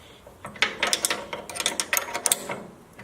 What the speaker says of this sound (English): The way I like to tighten bolts is in a pattern. We'll get them snug,